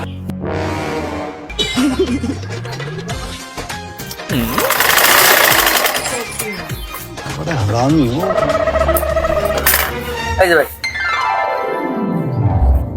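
A sewing machine stitches a shirt in bursts of rapid mechanical whirring that start, stop and change pace, loud and close, while people talk over it.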